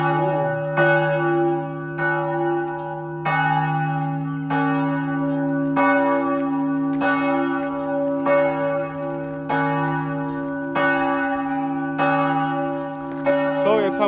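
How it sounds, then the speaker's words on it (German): A church bell in Bled, Slovenia tolls noon repeatedly in a slow, steady rhythm, each strike leaving a long humming resonance that overlaps the next, close and fairly loud. "man hört gerade das Nachsummen, Brummen von der Glocke"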